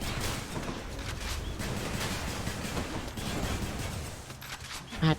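Rapid bursts of electric gunfire from a Zeus-powered weapon in the video game Hades, a dense continuous volley of crackling shots at steady loudness, with a short sharp hit at the end.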